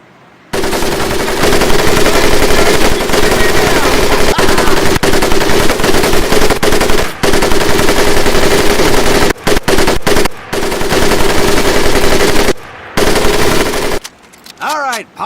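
Mounted machine gun firing in the Medal of Honor Pacific Assault video game, a loud, sustained automatic roar broken by a few short pauses, then scattered final bursts and brief distant gunfire.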